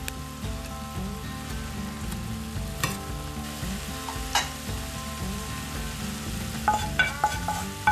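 Chili ingredients, including pepper and jalapenos, are stirred in a pot with soft, steady scraping and bubbling. A few sharper clinks stand out, the overall level is fairly quiet, and there is no talking.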